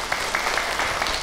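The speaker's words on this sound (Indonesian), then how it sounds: "tepuk tangan dong buat Abi ibu" An audience applauds with a steady patter of many hands clapping, moderately loud and continuous for the whole moment.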